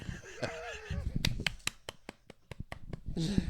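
A few sparse, soft hand claps, a polite golf clap for Tim the golfer, tap out irregularly in a small room between bits of talk.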